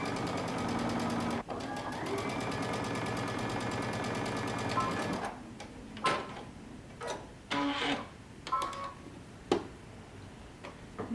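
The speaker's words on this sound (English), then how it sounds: "starting at the bottom, we're going to sew using 5/8 of an inch seam allowance" A domestic sewing machine runs a steady, even seam on a Simplicity 8045 dress for about five seconds, then stops and gives way to scattered clicks and handling knocks.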